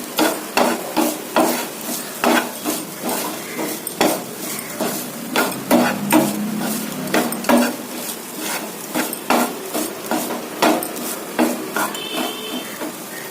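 A spoon scrapes and clatters steadily against a pan as a banana stem stir-fry is stirred, with rhythmic knocks and a light sizzle underneath, no talking.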